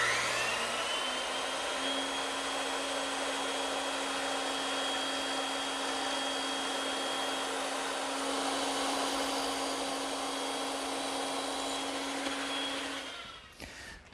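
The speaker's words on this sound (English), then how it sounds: "And now I just have to trim up the tenons using the bandsaw." A bandsaw trims wooden tenons in a woodworking shop, with a steady loud whirring hum that runs almost unbroken before cutting off near the end.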